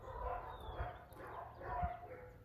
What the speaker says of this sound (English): I'm in Mexico, there are dogs.